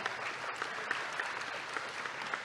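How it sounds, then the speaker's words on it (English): Steady audience applause at a graduate student orientation, a dense wash of many hands clapping at even volume throughout, with no voices standing out. "Let's give her a round of applause."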